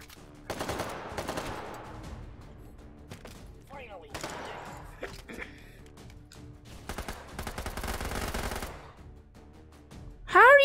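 Rapid bursts of automatic gunfire come from a mini AK in a video game. The salvos are loud and repeated, with short gaps between them, and a sharp tonal game sound appears near the end.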